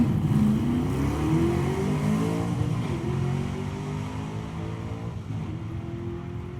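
A drag racing car with an Eddie Miller-built engine launches at Drag Week 2012 and climbs through the gears, a loud roaring engine note rising in pitch, dropping at each shift, then rising again as it pulls away.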